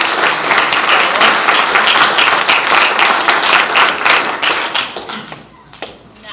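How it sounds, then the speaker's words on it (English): An audience at an awards ceremony claps steadily with dense, close-up applause that fades toward the end. "Would you please give her a round of applause?"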